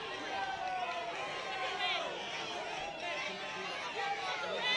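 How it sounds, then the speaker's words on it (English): Spectators at a women's college soccer semifinal murmur and cheer, a diffuse crowd roar with rising excited voices, heard at a distance and blended with stadium ambience. "And you hear the crowd."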